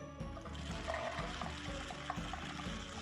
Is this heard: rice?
yes